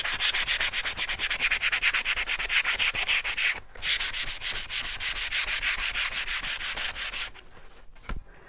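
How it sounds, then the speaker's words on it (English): Brisk, rhythmic sanding of a painted wooden shiplap platter with slightly gummed-up sandpaper, fast even strokes close up, a short break midway, then it stops near the end. "So I'm sanding the same direction as the way I painted."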